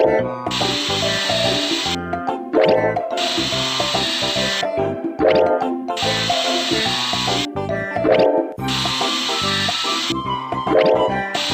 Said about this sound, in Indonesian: Kencangkan skrup untuk mengencangkan bola besi di tempatnya.